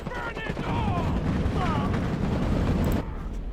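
Cannon fire in the Iron Harvest strategy game, heard as a steady, dense roar of distant battle rumble and continuous firing, with faint whistling tones drifting above it.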